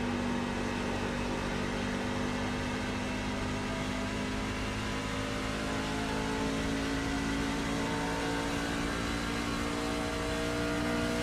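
GT3 race car engines drone steadily at Interlagos in a racing video game, a continuous loud whine with no breaks and no voices.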